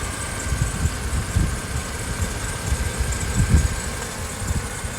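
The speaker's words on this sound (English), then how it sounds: "Engine's running." A 2010 Mercedes SL 300 sports car idles steadily at close range, a low even rumble with slight rhythmic pulsing and no talk over it.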